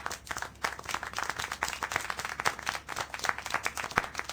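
Scattered clapping in the video game Syberia: The World Before, like a small group applauding, steady and moderately loud with no voices.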